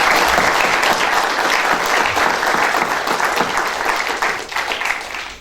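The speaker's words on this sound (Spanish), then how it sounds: "el doctor Mario Ruz Sosa, por quien también le pido un fuerte aplauso" An audience claps steadily at a university lecture event, a dense sustained round of applause that fades slightly toward the end.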